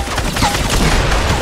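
Gunfire in the Fortnite battle royale, with rapid loud shots packed into a short, dense burst close to the player.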